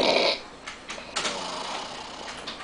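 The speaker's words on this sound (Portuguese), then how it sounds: "Vou deixar 1 minuto de ronco gravado, tá?" A man snores nearby, one loud rasping inhale at the start, then quieter, irregular breathy snorts and rattles trailing off, with no talking.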